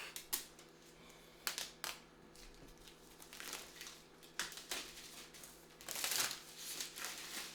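Plastic wrap is peeled off a 12.9-inch fifth-generation Space Grey iPad Pro M1 Wi-Fi and cellular box, with crinkling and tearing bursts at irregular intervals against quiet room tone, close and fairly faint.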